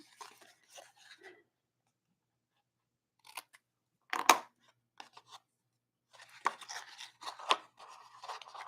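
Scissors trim paper pieces for a handmade fold-out gift box, giving a few short snips and then a denser run of crisp cuts, close and fairly quiet with no talking.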